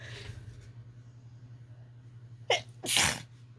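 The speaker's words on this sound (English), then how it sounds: "Oh, I gotta sneeze" A single loud sneeze, a sharp intake followed by the explosive burst, stands out over a quiet room with a low hum.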